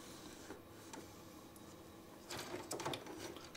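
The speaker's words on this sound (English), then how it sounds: "You can move also the printer head back and forth." Inkjet printer head moved back and forth by hand during nozzle cleaning, faint quiet sliding and clicking, with a louder scraping rattle near the end.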